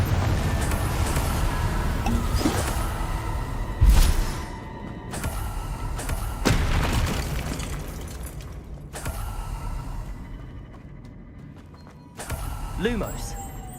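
A Confringo blast spell cast in the Hogwarts Legacy video game, heard as a sharp burst near four seconds amid other clattering spell effects and game sounds, with a voice speaking over the mix.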